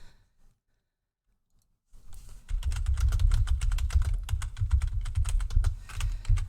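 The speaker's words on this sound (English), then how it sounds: "Yes, my keyboard is clattering away in your ears." A computer keyboard clatters steadily close to the microphone, rapid uneven keystrokes running for several seconds after a short silence, with no speech over them.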